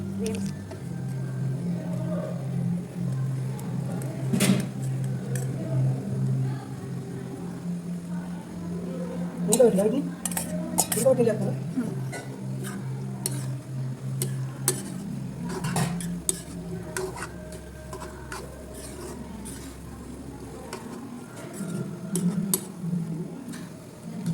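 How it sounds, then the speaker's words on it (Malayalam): Utensils scrape and clink against a pan as cooked pasta is stirred in, with a low background hum and occasional knocks throughout. "നമ്മൾ വേവിച്ച് വെച്ചിരിക്കുന്ന പാസ്ത ഇതിലേക്ക് ഇടുക"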